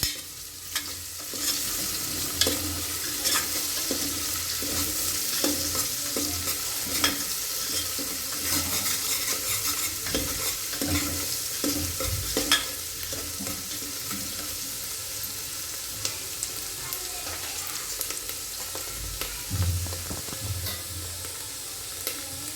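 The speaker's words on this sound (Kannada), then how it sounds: "ಚೆನ್ನಾಗಿ ಈರುಳ್ಳಿನ ಫ್ರೈ ಮಾಡ್ಕೊತಿದ್ದಾರೆ" Onions fry in a pan for a home-cooked Holi mutton meal, a continuous close sizzle with repeated scraping and stirring strokes throughout, with no one speaking.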